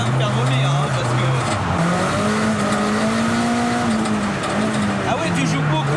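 A Nissan 180SX drifts under handbrake with a loud, sustained engine whine that rises and falls, while its tires squeal continuously from close inside the car.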